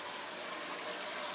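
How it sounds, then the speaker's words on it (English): Washing machine drum filling with cold tap water, a steady, broad gushing rush with no breaks, close and constant. "You can see I'm filling it up with cold water."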